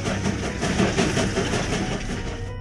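A train rumbles steadily with dense clattering and rolling noise, loud and continuous, cutting off abruptly at the end, with no voices over it.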